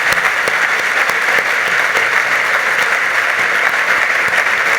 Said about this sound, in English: I'm going to ask for one more round of applause for all of our scholars here this evening